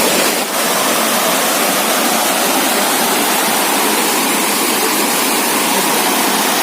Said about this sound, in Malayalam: ഒരു വെള്ളച്ചാട്ടം എന്നുള്ള രീതിയിൽ കാണാൻ കഴിയുന്നത്